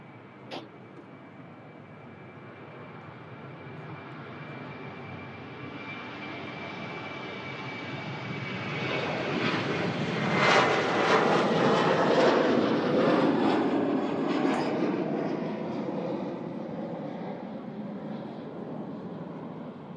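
A large aircraft engine at an airport, likely an Airbus A350 being moved to a remote stand, roars steadily and swells louder toward the middle before easing off, with no talk over it.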